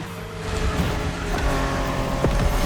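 A Honda NSX sports car, a 1990s Japanese model, drives in The Crew Motorfest racing game, its engine a steady, continuous drone with harmonic layers and a brief rising surge near the end, heard alone without talk.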